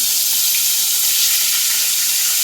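Prawns frying in hot oil in a pan, a loud, close, unbroken hiss of sizzling with no pauses and no voices.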